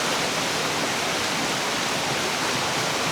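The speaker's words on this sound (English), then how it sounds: "Let's just listen to the sounds of the river." Steady rushing river water flowing continuously, a dense broadband wash with no breaks or voices.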